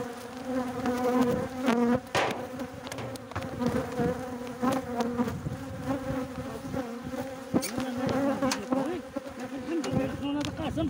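Honeybees buzz steadily at an opened beehive while frames are inspected, a loud, dense, continuous drone with a few sharper passes close by.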